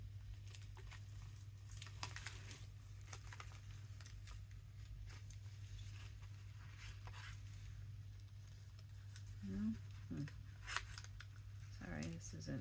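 Scissors snip through scrapbook paper in short crisp bursts, quiet and close, with faint rustling of the paper between cuts during scrapbook crafting.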